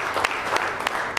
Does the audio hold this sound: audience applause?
yes